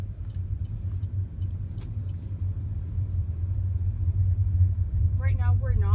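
A car turning left on an ordinary road, a steady low engine and road rumble close by throughout, with a voice speaking briefly near the end.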